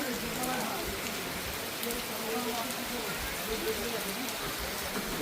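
Rain falling in the Sundarbans forest, a steady close patter of drops on surfaces forming an even hiss throughout, with no breaks.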